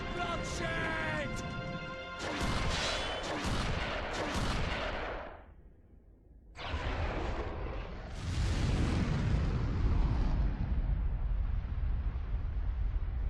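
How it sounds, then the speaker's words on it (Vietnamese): Massive explosion after a punch in the video game Asura's Wrath: a series of heavy booming blasts, then a brief lull and a long, loud rumbling roar. "Một vụ nổ làm chấn động cả Shinkoku sau cú đấm"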